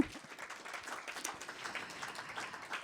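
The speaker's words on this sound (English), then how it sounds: "So one big applause for all these contributors, please." Conference audience applauding panel contributors at a climate and circular economy forum, a steady dense wash of clapping from a large hall throughout, moderately loud with no talk over it.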